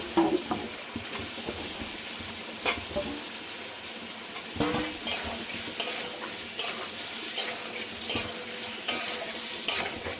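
Potatoes frying in spiced oil for a Bengali fish curry with eggplant, a steady sizzle broken by repeated scraping and clinking stirs of a utensil in the pan, close and continuous with no talking.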